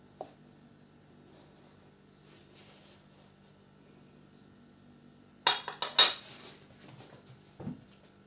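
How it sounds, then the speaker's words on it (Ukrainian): A spoon stirs dough for lazy khachapuri with oil added in a bowl, making a cluster of loud clinks and scrapes against the bowl after a long quiet stretch, with one softer knock near the end. "Розмішуємо ще раз."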